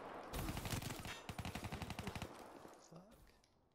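A fast automatic weapon burst in a video game, a tight rattling string of shots lasting about two seconds, fairly close, then fading out into quiet.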